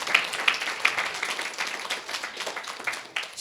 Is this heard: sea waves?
no